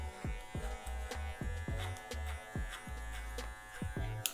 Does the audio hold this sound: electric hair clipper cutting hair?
yes